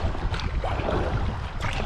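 A boat drags and scrapes over rocks in the shallow riffles of a river, a rough grinding rumble with bursts of water splashing and wind noise, close and fairly loud.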